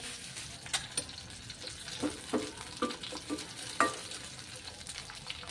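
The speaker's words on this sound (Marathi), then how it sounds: "आता ते सुद्धा आपल्याला यावरती तेलामध्ये व्यवस्थित असे परतून घ्यायचे आहेत" Sesame seeds roasting in oil in a pan for a Nagpur-style patwadi rassa, a soft steady sizzle with faint crackles and light stirring scrapes, fairly quiet and close.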